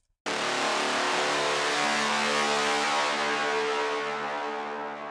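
An aggressive, bright synth in a heavy music mix snaps in suddenly and holds a dense, buzzing roar heavy in high end and high mids, sustained and slowly fading without pause, with no voices.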